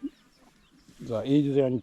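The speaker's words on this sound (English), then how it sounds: "Asian chicken." A chicken at a cultural village in Guadalcanal, Solomon Islands, gives a short, close, tonal clucking call lasting under a second after a quiet stretch.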